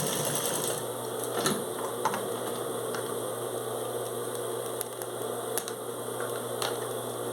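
A sewing machine runs steadily at close range, stitching a small square on a shoulder bag. The motor hums evenly with a fast needle rhythm and a few small clicks, and no one talks.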